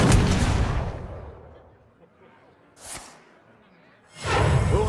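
A huge gun firing in a video game, heavy booming blasts with whooshing tails, one at the start, a short one in the middle and another at the end, loud and close.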